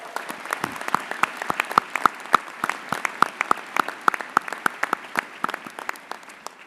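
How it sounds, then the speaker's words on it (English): Audience applause at a graduate commencement ceremony, a steady wash of many hands clapping with sharp individual claps standing out throughout, sustained and fairly loud. "Please join me in a round of applause for them."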